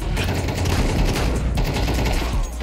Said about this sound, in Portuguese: Eu dei um tiro já pra assustar